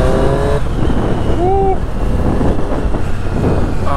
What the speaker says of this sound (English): Back on the Triumph Street Triple RS.